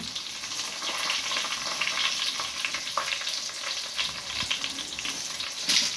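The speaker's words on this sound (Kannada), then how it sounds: "ಕರಿಬೇವು ಸೊಪ್ಪು, ಮೆಣಸು ಹಾಕ್ಕೊಳ್ತಾ ಇದ್ದೇನೆ." Curry leaves and chillies fry in a hot pan, a loud steady sizzling hiss with faint stirring scrapes throughout.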